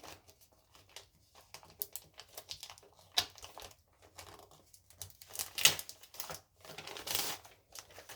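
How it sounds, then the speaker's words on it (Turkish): A wrapping layer is peeled off a taped parcel, giving irregular crinkling and tearing rustles in short close bursts, with a few louder rips toward the end. "Şimdi bu katmanımızı da soyalım."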